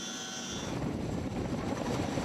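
A Korean-built Surion helicopter and a large Chinook transport helicopter fly in a continuous, broad rotor and engine roar that holds steady, at moderate loudness, with no talking.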